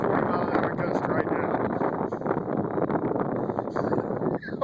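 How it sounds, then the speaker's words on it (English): A strong, roughly 40-mile-an-hour wind gust buffets the microphone outdoors while a Hobbyzone Champ model plane is flown, a loud continuous rushing roar with uneven surges throughout. "that's one of those 40-mile-an-hour gusts right"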